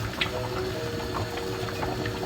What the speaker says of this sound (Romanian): A început să ne fiarbă și apa pentru ceaiul de ghimbir.